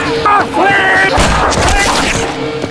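A gunshot rings out in a zombie film scene as a man fires at a zombie to protect his wife, a sharp loud blast with rumbling echo amid tense music and scattered voices.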